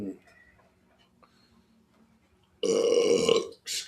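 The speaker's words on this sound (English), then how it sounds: "they're hearing you burp." A loud, drawn-out burp erupts after a quiet stretch with faint background noise, followed by a brief second burst.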